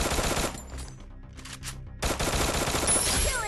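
Rapid automatic gunfire from XM8 and MP40 guns in the Free Fire video game, loud bursts filling the start and end with a brief quieter gap in the middle.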